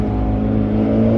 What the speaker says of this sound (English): I think it's the loudest car I've ever driven.